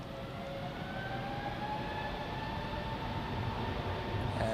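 An Edelweiss Air Airbus A320neo, a Swiss-registered jet, takes off at Zurich Airport, its engines giving a steady distant roar with a faint rising whine throughout.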